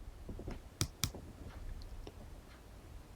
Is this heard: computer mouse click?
yes